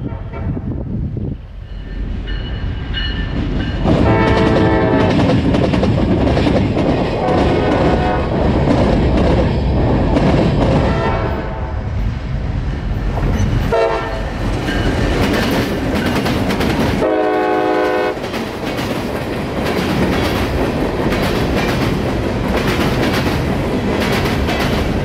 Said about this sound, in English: to see this train setup was quite interesting and nostalgic